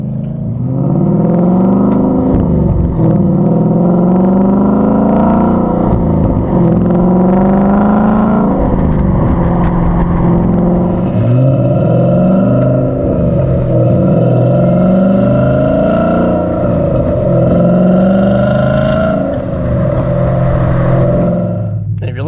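A 2015-2017 Mustang GT V8 with a Gibson 3-inch cat-back exhaust rumbles and burbles while driving, rising and falling through several revs and gear changes, deep and loud throughout.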